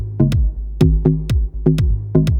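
Deep, gritty deep house bass line, with repeated short bass notes in a steady groove, loud and alone with no talking.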